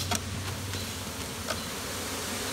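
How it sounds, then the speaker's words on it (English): Honey bees loose from a bag during a cut-out buzz in a steady, continuous drone, with a few sharper passes as individual bees fly close, and no one talking. "We got bees."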